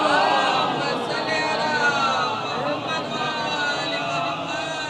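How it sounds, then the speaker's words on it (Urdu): A congregation at a Safar majlis gathering chants a salawat slogan together, a dense, sustained wash of many voices close by and loud for the whole stretch. "ایک نعرے صلوات پڑھیے حضرات"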